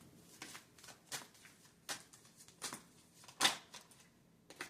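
Tarot cards shuffled by hand: a string of soft, close riffling bursts recurring at an irregular rhythm, quiet, with no talking.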